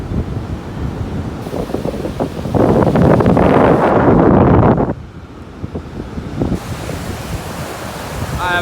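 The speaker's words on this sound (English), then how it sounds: "we never have waves like this." Ocean waves surge and break close by under gusting wind, with a loud roaring swell in the middle and rumbling wind buffeting throughout.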